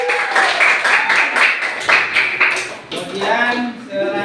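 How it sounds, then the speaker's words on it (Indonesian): A classroom of students applauds group 1, a steady, fairly loud patter of many hands clapping, with some voices rising toward the end. "Kasih aplaus untuk kelompok 1"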